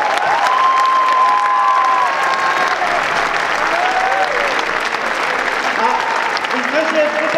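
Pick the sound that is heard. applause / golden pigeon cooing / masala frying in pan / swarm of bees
applause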